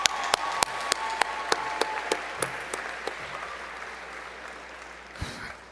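Scattered, distinct hand claps ring out at a high school commencement ceremony for graduating grade 12 students. They come in a steady, slowing rhythm and gradually fade, with a brief renewed burst near the end.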